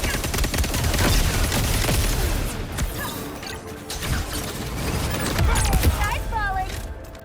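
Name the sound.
gunfire from the video game Concord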